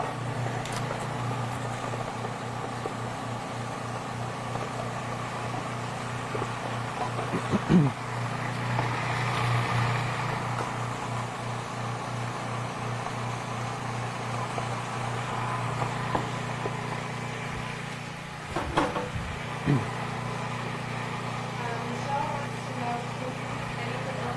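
A food processor blends hummus with a steady, droning motor hum that runs the whole time, with a few brief clatters and a person talking over it.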